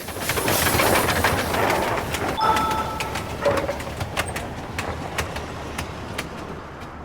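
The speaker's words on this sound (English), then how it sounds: "that was a weird way to get hit by a moving train" A train in the video game Moral Dilemma rumbles loudly past, a dense rolling roar with clattering rail clicks and metallic impacts that slowly fades over several seconds.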